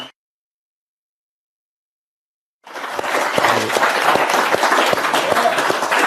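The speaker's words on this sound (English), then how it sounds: "I just want to get just another big round of applause for John Carney for hanging out with us." A big round of applause from an audience for a guest at an event, starting abruptly after near silence and continuing as a dense, steady wash of clapping.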